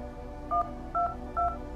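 Three short two-tone touch-tone beeps ring out from a phone box keypad in a video game, evenly spaced about half a second apart over a quiet background hum.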